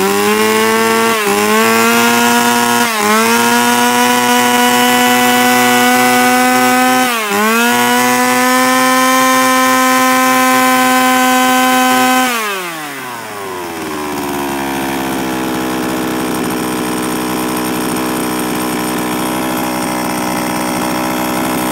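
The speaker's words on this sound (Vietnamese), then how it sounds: "Test nổ này." A used Japanese chainsaw engine, test-started, runs loudly and steadily with a buzzing two-stroke tone, revving up a few times before settling into a lower idle for the rest of the clip.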